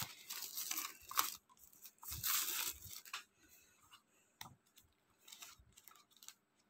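The tight plastic seal on a Kaiji Kawaguchi comic being torn open: two close crinkly ripping bursts, then a few faint scattered rustles and clicks.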